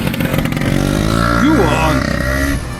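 A two-stroke scooter on a touring ride through the Scottish Highlands accelerates uphill through a hairpin bend, its loud buzzing engine climbing in pitch as it passes close by, with people talking over it.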